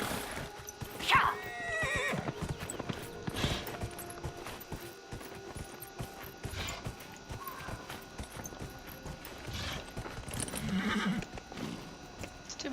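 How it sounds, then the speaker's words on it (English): A horse neighs loudly and its hooves clip-clop in steady walking rhythm in the Dragon Age Inquisition video game, with further whinnies and mechanical game sounds. "Let's go talk to Master Dennett on the giant horse."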